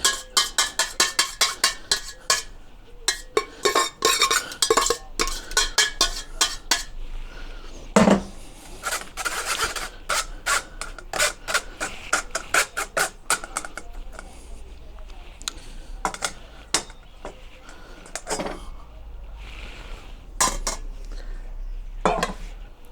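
Pots and metal utensils clank and scrape repeatedly while a bordelaise sauce is strained in an outdoor cooking setup by a charcoal kamado grill, with irregular sharp clinks, knocks and rattles close by and occasional pauses.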